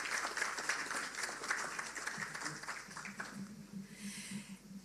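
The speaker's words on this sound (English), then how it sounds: "wonderful round of applause" An audience at a public sector service excellence awards ceremony applauds, a faint, distant wash of clapping that fades over several seconds.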